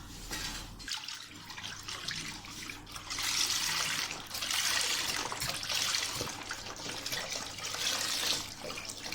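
About 2.5 litres of milk poured into a pot with semolina for falooda: a steady, close liquid rush that swells and eases in waves, with no talk.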